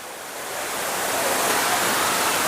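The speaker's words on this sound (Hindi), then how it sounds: "वाटरफॉल" A waterfall on a staff tour outing roars as a steady, broadband rush of falling water, building slightly in the first half second and then holding loud and constant, with no voices.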